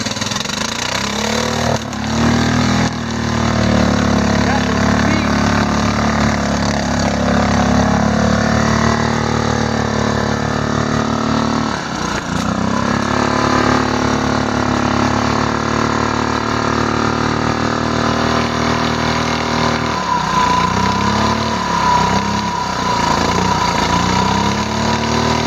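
A small-tired Murray trail machine idles steadily and loudly close by, a continuous mid-pitched engine drone with a couple of brief dips, running alone without talk.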